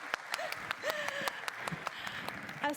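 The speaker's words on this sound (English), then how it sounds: "A round of applause." Conference audience at a space propulsion industry event gives scattered, faint applause, individual claps spaced apart rather than a dense roar, with a voice speaking over it.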